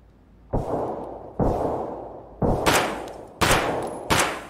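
Gunfire in the Escape from Tarkov video game: five sharp, loud shots spaced roughly a second apart, each followed by a long reverberant tail, close and with no talking.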